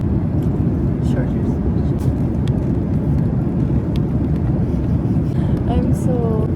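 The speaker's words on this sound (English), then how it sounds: "We've been on this plane for 8 hours." Steady, loud low roar fills an airplane cabin during a long flight, with people talking nearby over the constant hum.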